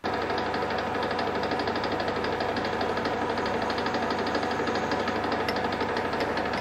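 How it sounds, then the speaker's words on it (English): A countersink touches the inside of a metal adapter on a lathe, producing a steady, loud, continuous machining drone with a faint rhythmic chatter throughout and no talking. "So now we'll just touch the inside with the countersink."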